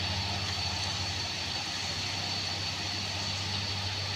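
A Hino truck engine drones steadily as it climbs a steep hill on the Kedabuhan route, with a constant low rumble and a high whine, loud and unbroken with no talk.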